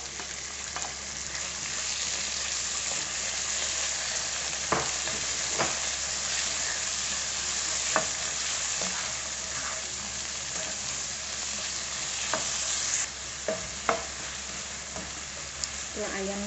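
Chicken pieces seasoned with a little salty soy sauce fry in a pan with a loud, even sizzle throughout, with occasional clicks and scrapes of a utensil turning them.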